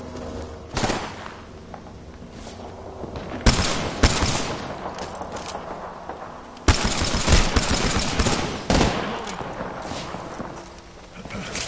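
Gunfire from the Apex Legends video game, with several loud bursts of automatic fire separated by quieter stretches of game background.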